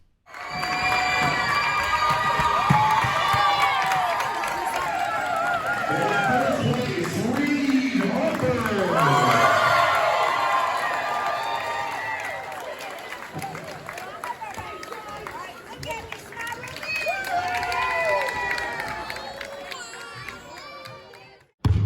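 A student section crowd at a school sporting event cheers on its athletes, a dense, sustained wash of voices and shouts that swells and fades over about twenty seconds.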